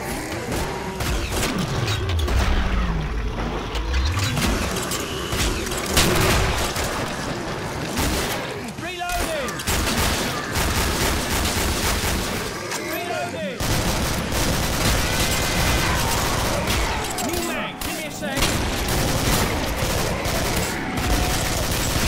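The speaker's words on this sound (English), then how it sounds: "Now this is a big sodding gun." Heavy gunfire from a large weapon in a video game, dense continuous bursts of loud shots with mechanical clatter, heard up close with speech mixed in throughout.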